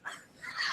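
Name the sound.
dog whimpering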